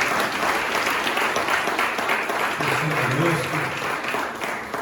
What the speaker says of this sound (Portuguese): Vamos aplaudir o Senhor pela vida dessas pessoas.